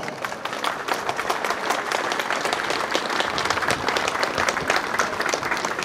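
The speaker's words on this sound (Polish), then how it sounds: "Gorące brawa." Steady applause from an audience at a police ceremony marking Police Day in Grudziądz, a dense, even clapping that holds at full strength for about six seconds without pause.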